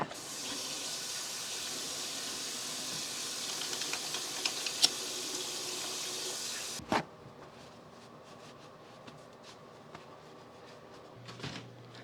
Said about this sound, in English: And yes, I'm gonna wash my hands.